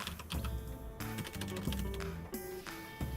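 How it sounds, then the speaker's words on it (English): Keys clack on a computer keyboard in quick, uneven bursts, close up, with soft musical tones playing in the background. "I'm just typing in."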